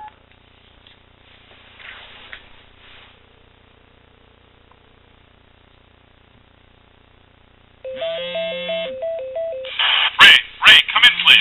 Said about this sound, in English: let's go ahead and call that phone, and you'll hear the ringtone for that